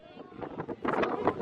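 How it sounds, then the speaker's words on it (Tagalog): Strong wind gusts buffet the microphone at The Peak in Hong Kong. The rumble builds louder in the second half, with voices faintly mixed in. "Malakas pa yung hangin, guys."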